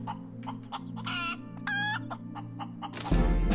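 Game chickens from Breathedge cluck in a few short bursts over a steady low electronic hum, followed by a louder burst of noise at the end; no one speaks.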